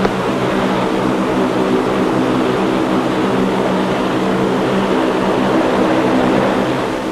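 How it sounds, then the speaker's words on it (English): Aircraft engines keep running while a plane taxis on snow in Antarctica, a loud, steady, droning roar that fills the whole stretch without letup or voices. "Engines must be kept running."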